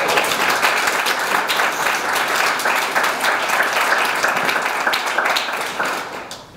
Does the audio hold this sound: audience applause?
yes